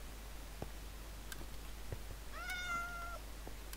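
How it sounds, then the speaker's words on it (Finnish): A cat in the video game Minecraft gives a single short meow partway through, faint against a quiet background with a few soft ticks and clicks. "Mikäs tää naukuu?"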